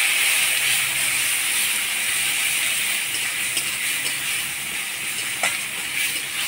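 Spice paste of garlic, coriander, cumin, ginger, turmeric and salt fries in hot oil for a mushroom curry, giving a steady close sizzling hiss with occasional small pops.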